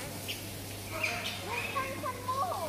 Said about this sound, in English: Look, some birds up there.